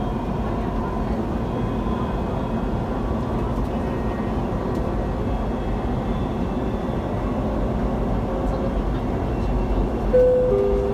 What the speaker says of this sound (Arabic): The final destination of this train is Expo 2020.